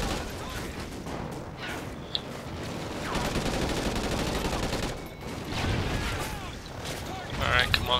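Repeated gunfire bursts from the Call of Duty Ghosts campaign, loud and continuous with sharp cracks and rumbling booms through the battle, while a player talks over it.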